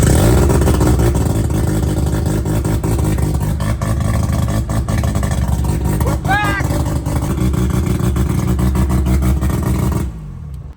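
A Mazda RX7 drift car's engine runs loud and steady throughout, its rumble persisting under people talking nearby before cutting off abruptly near the end.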